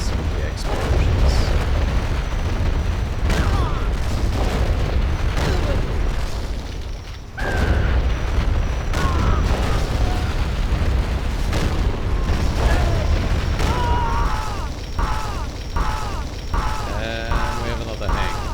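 Helicopter rotor drone and repeated explosion booms from the Command & Conquer Generals Zero Hour video game, with a continuous low rumble through the battle and bursts of impacts and mechanical effects toward the end.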